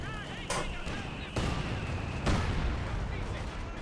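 In the video game Company of Heroes 2, an AVRE armoured engineering vehicle fires, sending out several sharp, heavy booms over a continuous rumble of battle noise.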